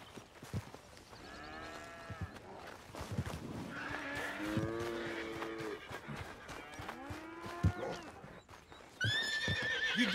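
Horses neigh and whinny repeatedly in Red Dead Redemption 2, several rising and falling calls overlapping with hoof clip-clops and farm-animal lowing, fairly close, with a loud whinny near the end.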